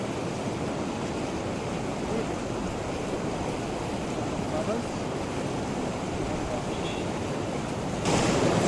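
A waterfall at Rohtang Pass, among snow glaciers in the mountains, gives a steady broad rushing roar mixed with wind buffeting, swelling slightly louder near the end.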